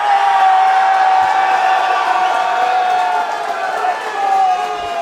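A boxing event crowd cheers and whoops in a steady, loud roar that fills the hall, with voices rising over the noise.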